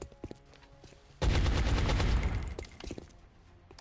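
Burst of gunfire from a soldier's weapon in the video game XCOM Enemy Within, a loud rapid volley lasting about a second and a half before fading into quieter game sounds.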